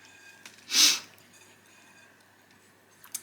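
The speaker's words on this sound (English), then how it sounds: "so please excuse all the sniffing sounds" One short, sharp nasal sniff from someone with a blocked nose, close and fairly loud in a quiet room, followed by faint small ticks.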